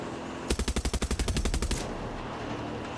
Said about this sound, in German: wenn ich schieße, habe ich keine anderen Sounds. Nur das Schießen